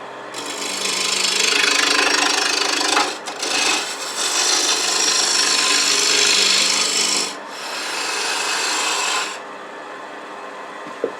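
A wood lathe turns a snowman ornament blank while a tool rasps steadily against the spinning wood, loud and close, running continuously for about nine seconds with short dips in intensity before it quiets to a low hum.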